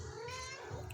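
A kitten gives a short, close mewing call, with a faint rise in level at the very end and no talking.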